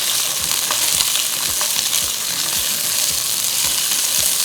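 Chopped vegetables fry briefly in about two tablespoons of oil. A steady sizzle runs under regular stirring strokes that scrape the pan roughly twice a second, close by and with no speech.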